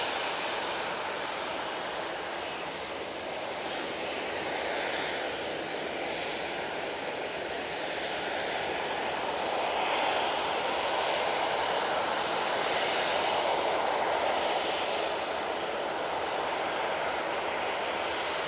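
A Jet2 airliner departs Manchester Airport in plain livery. Its engines make a continuous broad roar that swells gradually, heard from a distance with no voices.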